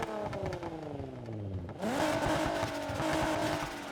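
A 2002 Nissan Silvia S15 Spec R engine in the video game Need for Speed Heat revs up and drops, then surges again with rising pitch as it accelerates, loud and close with a gritty, racing tone.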